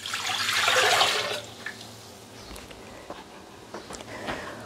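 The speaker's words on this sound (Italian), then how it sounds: "Iniziamo la ricetta mettendo nel boccale l'acqua." Water is poured into a Thermomix mixing bowl, a close, loud splashing gush for about a second that fades into faint drips and small clinks.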